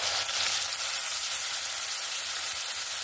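A paste of cumin, green chilli and onion fries in a pan while hilsa fish curry is being cooked, making a soft, steady, even sizzle with no talking.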